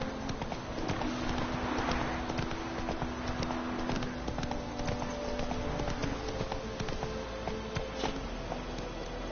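Horse hooves clip-clop steadily in The Witcher 3, an even walking rhythm that stays close and sits within game ambience.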